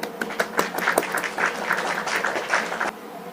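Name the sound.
classroom applause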